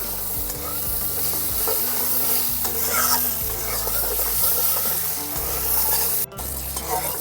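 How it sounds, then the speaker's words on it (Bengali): Olives seasoned with turmeric and salt sizzle loudly in a pan while a utensil stirs them in repeated scraping strokes, close and busy, with no voices. "নাড়াচাড়া করে 1 মিনিটের মতন ভেজে নিয়েছি।"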